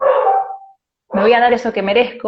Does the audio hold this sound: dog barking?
yes